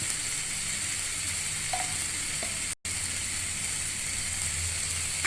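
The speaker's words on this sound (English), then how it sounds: "Now I will add some pasta sauce." Red pasta sauce sizzles in a hot pan with vegetables and paneer, giving a steady, even frying hiss throughout. A very brief dropout breaks it midway.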